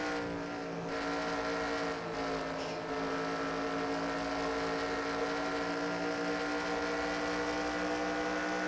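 The steady, droning roar of a Chevy race car engine at Indianapolis in the video game NASCAR Racing 2003, heard on board and holding a constant high pitch.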